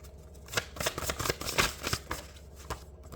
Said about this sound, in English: let me go ahead and reshuffle